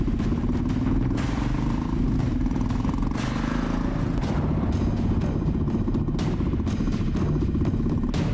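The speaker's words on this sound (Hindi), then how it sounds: "ये जो गुजरी वो कांति की बाइक है ना?" A motorbike passes close by with a steady engine drone and a rising then falling pitch, clattering along a road for several seconds with no talk over it.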